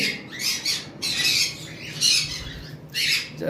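A pair of farm-bred breeding birds letting out four harsh, bright squawks in quick succession, loud and close, with short gaps between calls.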